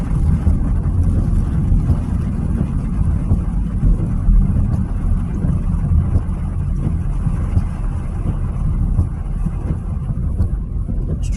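Steady car engine and road rumble from inside a vehicle creeping through traffic on the approach to Hartford, Wisconsin, during storm chasing. The noise is continuous, low and loud, with wind buffeting throughout.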